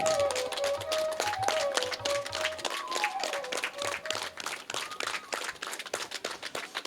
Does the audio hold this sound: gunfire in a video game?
no